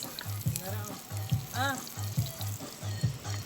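Food is stirred and mixed in a frying pan, a soft sizzle under repeated scraping strokes of a spoon, with a rhythmic hum and a brief whistling tone in the background.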